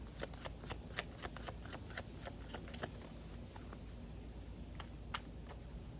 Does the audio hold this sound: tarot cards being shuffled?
yes